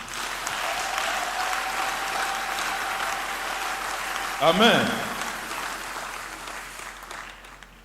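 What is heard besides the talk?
congregation applauding in church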